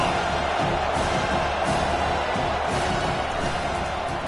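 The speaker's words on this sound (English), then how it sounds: "Here comes this home crowd as the defense tries to get off the field on 3rd down." Home crowd at a college football game, Tennessee against Penn State, making a dense, continuous roar on third down as the defense tries to get off the field, loud and steady throughout.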